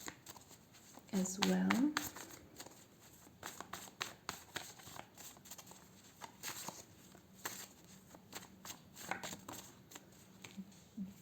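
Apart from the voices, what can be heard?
shuffling tarot cards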